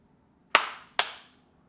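A pair of crisp hand claps roughly half a second apart, fairly close in a quiet garage, aimed at triggering a Clapper sound-activated light switch.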